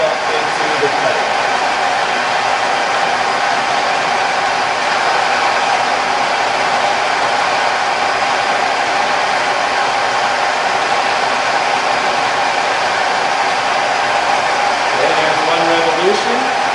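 A milling machine cutter slowly bores trunnion bores, giving a steady motor hum and whirring cut that stays even and nearby throughout.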